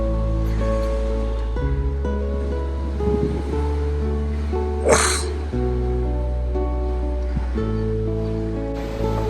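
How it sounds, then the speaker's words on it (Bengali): Sea waves crash and surge at Promenade Beach in Puducherry, a steady roaring wash of surf with one sharper break midway, heard alongside a sustained low tonal drone. "ও কি তাণ্ডব দিচ্ছে সমুদ্রের জলগুলো।"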